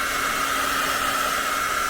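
A heat gun made for shrink wrapping blows a steady, loud rush of hot air over a watercolor painting to dry it. The whoosh is continuous and unbroken, with no other sound over it.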